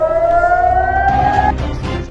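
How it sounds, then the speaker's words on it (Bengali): A loud air raid siren in Tel Aviv during an Iranian missile attack wails in a sustained rising tone, then cuts out, leaving rumbling background noise. "এই হামলায় তেল আবিব ও আশেপাশের এলাকায় সাইরেন বাজতে শুরু করে"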